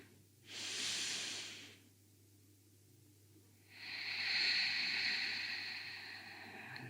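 Two slow, deep yoga breaths, each a long soft airy rush, the first lasting about a second and the second stretching over three seconds, close and alone over quiet background hum.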